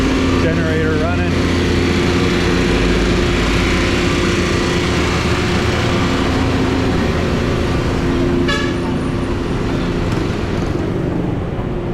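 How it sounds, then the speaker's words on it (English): A generator runs steadily at a street spot in Angeles City, a constant mechanical hum with traffic noise and a horn toot, while people talk nearby. "Generator running."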